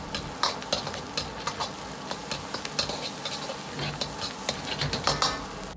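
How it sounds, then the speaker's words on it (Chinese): Diced shiitake mushrooms stir-fried in a wok of red chili oil and Pixian chili bean paste, cooking off their moisture: a steady close sizzle with frequent scraping clicks and taps from the spatula, and no talking. "炒出红油后下入香菇粒煸炒出香味"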